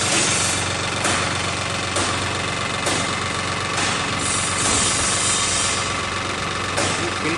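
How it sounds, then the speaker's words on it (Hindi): A garlic peeling machine running with a fan for blowing away skins, giving a steady loud mechanical roar and hiss with faint regular thumps about once a second, continuous throughout. "ये लटन छीलने वाली मशीन है"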